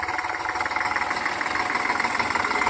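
A farm tractor engine chugs steadily nearby in a field, a rhythmic low throb with mechanical clatter running throughout.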